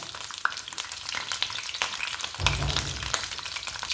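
Stuffed capsicums fry over a low flame in a pan, giving a dense, close crackle of popping oil with scattered spits and a deeper bubbling swell partway through.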